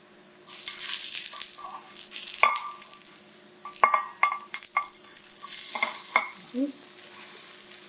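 Mexican black bean hummus fries in a little oil in a pan, a soft sizzle under repeated stirring and scraping strokes, with occasional sharper knocks of the utensil against the pan.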